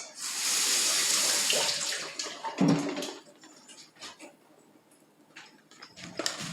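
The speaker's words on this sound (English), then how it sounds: "So we're going to rinse these out." Tap water runs steadily into a sink while mushrooms are rinsed under it for a green salad, a loud continuous gush that cuts off partway through, then quieter dripping and handling.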